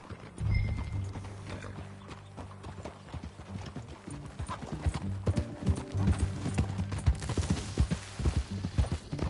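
Video game horse hooves clip-clop steadily at a trotting rhythm, close and clear, with a brief whinny near the start.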